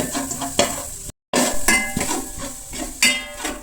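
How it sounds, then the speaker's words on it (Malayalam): Grated garlic being stirred in butter in a pan, with repeated metal scraping and clinks of a spoon against the pan over a light sizzle, close and fairly loud, with a brief silent gap. "ഒരു പാത്രത്തിലേക്ക് ഞാൻ ബട്ടർ ഇട്ട് കൊടുത്തിട്ടുണ്ട് ഗ്രേറ്റ് ചെയ്ത് വെച്ചിരിക്കണ ഗാർലിക്കാണ് ഗാർലിക്ക് നന്നായിട്ട് ഇളക്കി കൊടുക്കണം"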